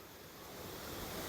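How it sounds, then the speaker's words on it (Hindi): Water pours down a 30–35 foot drop like a small waterfall at a temple-area outlet, a steady, loud broadband rush that swells slightly and holds throughout without talk. "ये देखो कितना गहरा पानी पड़ रहा है, ये एक किस्म का झरना बना हुआ है"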